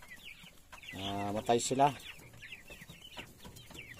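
Newly hatched turkey chicks on a rural farm peep in scattered thin, high chirps throughout, close by, with a person speaking briefly in the middle.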